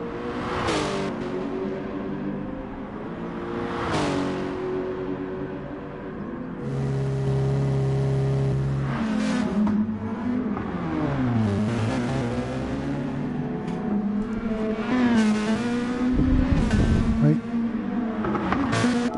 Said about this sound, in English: Bit of drifting going on there with the pink pussy wagon.